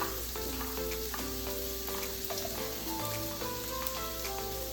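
Mixed peppers and red onion hit a hot frying pan with a steady, close sizzle and crackle, with faint clinks of stirring on top and no voices.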